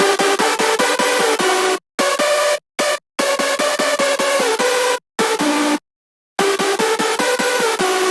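Hardstyle synth chords layered with all the lead synths, hitting in loud, rapid rhythmic stabs broken by several short dead-silent gaps.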